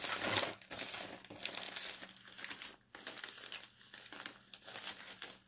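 Shipping label peeled off its backing and pressed onto a package, with close crinkling and crackling paper that rustles steadily for several seconds.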